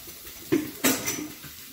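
A knife cuts apart thick sausages on a Steelmade grill top, making two short metallic scrapes and clinks close by, with quiet gaps between them.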